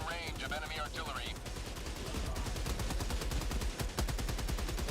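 Suppressing fire pounds away in Helldivers 2 as rapid, evenly spaced automatic shots roll on steadily and loudly after a short stretch of voice at the start.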